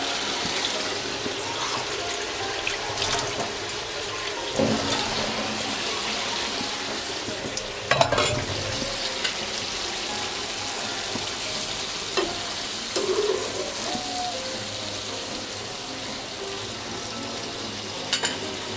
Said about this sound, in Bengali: আমি জল দিয়ে কষিয়ে নেব।